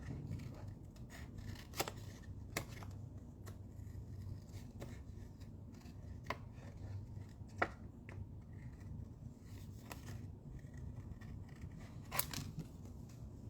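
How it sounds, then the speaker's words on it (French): Scissors snip quickly through paper card in a quiet craft-table setting, a series of sharp, faint clicks and cuts spaced irregularly over a low background hum. "Et je vais venir le couper vraiment rapidement."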